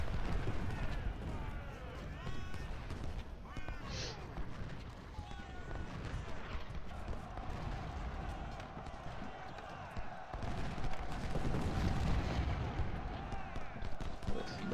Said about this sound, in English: More cannon.